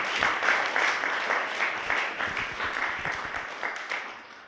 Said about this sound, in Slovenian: še en velik aplavz za naše mestne oblasti in občino